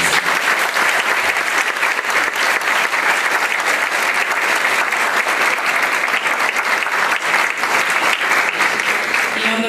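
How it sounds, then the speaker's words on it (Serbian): A large audience at a Saint Sava Day cultural celebration in Mali Iđoš breaks into a big, sustained round of applause, dense and steady throughout, with no speech over it. "ja bih vas molila još jednom da ih nagradimo jednim velikim aplauzom"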